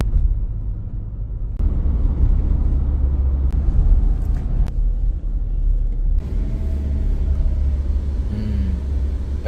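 Engine and road drone from a Mahindra Scorpio driven at night, a steady loud low rumble throughout with shifting intensity and no talking.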